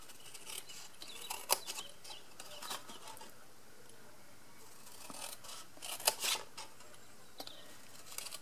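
Paper is cut away along a score line, leaving a neater edge: faint, quiet snips and crisp paper rustles come in scattered bursts over a soft background hiss, with no talking.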